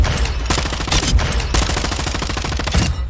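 Gunfire from a high-fire-rate weapon in Warzone shot on single fire, with dense, rapid loud shots running throughout and a few heavier bursts, no talk.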